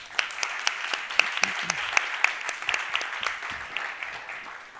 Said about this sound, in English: very warm welcome and a big applause to the panel